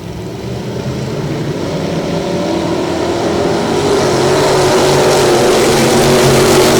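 Stock V8 race cars circling the track at Lavonia Speedway as the green flag comes back out, a loud continuous engine roar that swells and builds steadily as the field accelerates past, with no voices.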